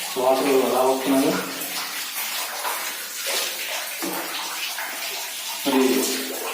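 Water of the Patala Ganga streaming inside the Belum Caves, a continuous close rush filling the cave, with voices speaking over it at the start and again near the end.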